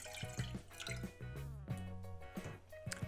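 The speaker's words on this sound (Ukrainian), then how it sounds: "100 г води заливаємо в каструлю." About 100 grams of water is poured into a saucepan for a Korean-style omelette, with close dripping and splashing trickles over a tonal background.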